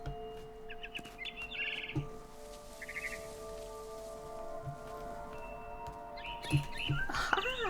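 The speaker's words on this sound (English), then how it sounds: "I tried to be quiet, but the bird was really scared." A frightened bird chirps in short bursts in What Remains of Edith Finch, the calls set against a steady rain-like ambient wash, ending in a flurry of rustling and chirps.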